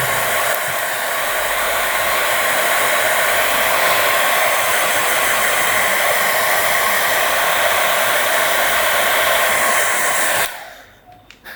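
A hair dryer blows steadily and loudly on a watercolor painting for about ten seconds, then switches off abruptly and leaves quiet room noise.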